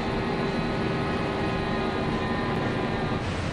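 Steady loud roar of a Red Arrows jet heard from the cockpit during a 2011 display flight, continuous engine and airflow noise with a constant hum throughout, no voices.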